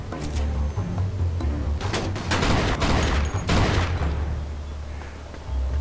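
Bursts of gunfire in the Mafia II video game, several rapid shots and thuds clustered in the middle of the clip over a steady low game rumble, with no talking.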